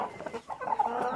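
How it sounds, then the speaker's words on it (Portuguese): Hens laying in a box cluck nearby, giving a string of short, uneven clucks and murmurs that rise and fall over about a second, with no talk on top. "Tinha umas galinhas botando numa caixa aqui, ó."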